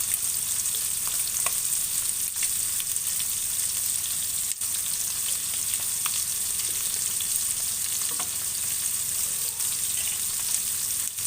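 Whole spices, cinnamon stick and mastic sizzling in a hot pot of meat broth, a steady bright hiss held close and even throughout, with faint occasional clicks.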